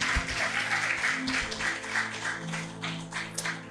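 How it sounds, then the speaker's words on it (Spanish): Church congregation applauding after a prayer, a steady wash of many hands clapping at moderate volume over a low hum, continuing evenly without talk. "¿Qué le parece si aplaudimos la palabra de Dios?"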